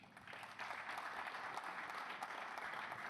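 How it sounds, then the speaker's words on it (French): Sustained applause from a seated crowd at a mosque inauguration, a dense steady clapping that swells slightly after the first half-second and holds evenly, heard from within the hall. "Si vous souhaitez montrer votre appréciation par des applaudissements"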